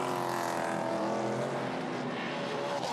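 V8 touring race cars roar along the Pukekohe circuit in a steady, dense engine drone that stays loud throughout, with no talking over it.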